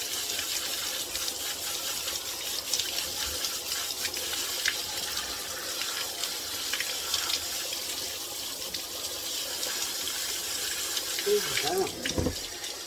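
Tap water runs steadily into a sink over quinoa being rinsed, a constant close gushing splash with brief knocks near the end.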